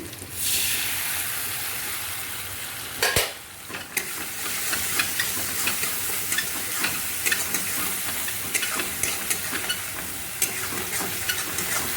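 Ginger garlic paste frying in hot, darkened oil, a loud continuous sizzle and hiss with scraping stir clatter, briefly dipping about a quarter of the way in before surging back.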